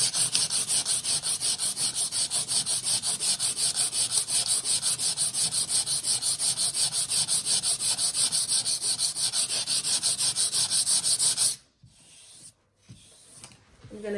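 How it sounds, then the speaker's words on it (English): Sandpaper rubs steadily back and forth over a filled repair on a wooden staircase, a fast, even rasping rhythm that continues for about eleven seconds before stopping abruptly, followed by a few faint scrapes. "You take a sanding paper and you sand the repair."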